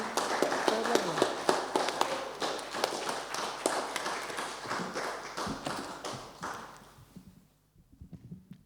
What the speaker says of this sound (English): I'd like to give the word writers another round of applause for being so lovely.